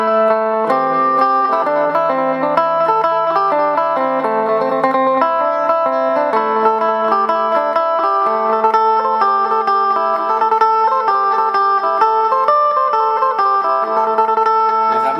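A twangy electric phin lute on a mixed pickup setting plays a lively melody of quick repeated notes, bright and continuous, with no voices.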